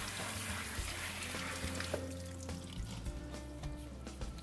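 Running water splashes and trickles steadily over sprouting seeds in a sprouting bag, like rinsing under a tap, with a soft rustle and a few small knocks mixed in.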